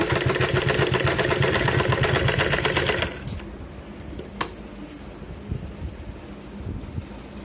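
An electric sewing machine stitches a folded seam on a blouse piece, running fast and steady for about three seconds before stopping, then only faint handling noises remain.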